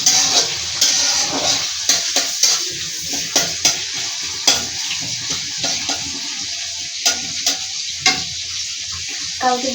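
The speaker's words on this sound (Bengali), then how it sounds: "এখন আমি তরকারি বসিয়ে দিব" Curry set on to cook in a home kitchen, with a continuous sizzle and repeated close stirring and scraping clatters at an uneven rhythm.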